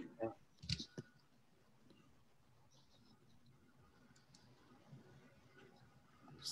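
Computer mouse clicks, a quick cluster of sharp near ticks early on, then only a few faint scattered clicks over quiet room background.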